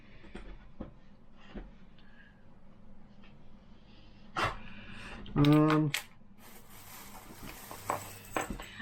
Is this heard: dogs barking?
yes